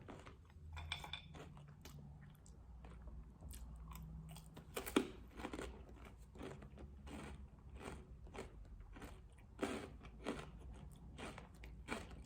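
Crispy fried spring rolls crunched up close in repeated bites, irregular crackling chews continuing steadily with no talk.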